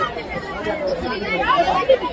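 A dense crowd of pilgrims chatters at Akkalkot, a continuous babble of many overlapping voices close around.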